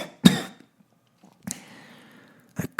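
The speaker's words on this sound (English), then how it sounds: "I cough up something wet and bloody." Several harsh coughs spaced apart, close and fairly loud, with short quiet gaps between them.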